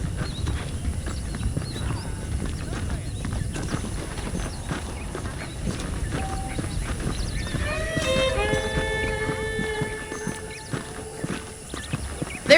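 Horse hooves clip-clop steadily at a walking pace in the video game Red Dead Redemption, joined partway through by a whinny, over a low ambient background.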